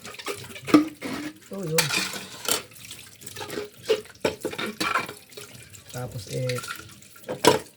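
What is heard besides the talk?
running tap water while washing dishes at a sink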